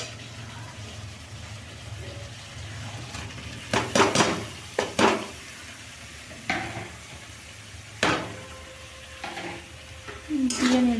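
Fried vegetables are stirred into spices in a pot while cooking khichdi. A soft sizzle sits under scattered spoon scrapes and knocks against the pot, close by, with a brief spatter near the end.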